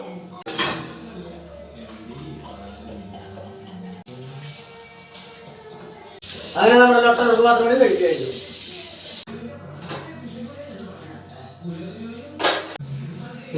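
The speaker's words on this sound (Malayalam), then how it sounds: "കുഞ്ഞു ഐറ്റംസ് ടീസ്പൂണ് കുഞ്ഞു ഗ്ലാസ് അങ്ങനെയുള്ള കാര്യങ്ങൾ അപ്പൊ അതും കൂടി ഒന്ന് വാഷ് ചെയ്തെടുക്കാം" Small glasses and teaspoons clatter and clink in a sink with running water while someone talks over much of it.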